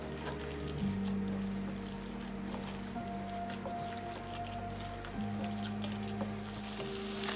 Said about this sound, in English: 5 patties there in my electric skillet